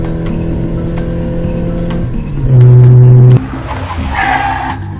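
A car skids in the Roblox game Pizza Parlor, with a loud, sustained tire screech of just under a second rising over steady game background music and effects, then fading back to the ambient game sound.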